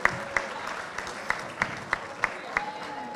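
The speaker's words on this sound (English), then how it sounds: "So give it a big round of applause again." Applause from a closing ceremony audience at a Model United Nations event: scattered, fairly sparse claps with distinct sharp hits spaced irregularly over a thin background, no one speaking.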